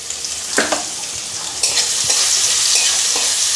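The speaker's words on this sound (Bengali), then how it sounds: "তেলের মধ্যেই আমি কটা কুচানো নারকল ভেজে নেব" Chopped coconut frying in hot oil with salt and turmeric, a steady bright sizzle broken by several scraping stirs of a spoon against the pan, with no one talking.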